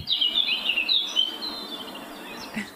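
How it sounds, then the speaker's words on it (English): A bird gives a run of loud, close, high chirping calls in quick bursts over about two seconds, then a brief fainter call near the end, with no talk. "Well, that bird got a little aggressive."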